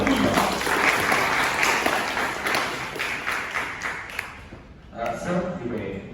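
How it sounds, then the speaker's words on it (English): A crowd applauds steadily for several seconds before an expert lecture on satellite-based navigation, the clapping fading out toward the end as a voice and some room noise take over. "Kindly give him a big round of applause."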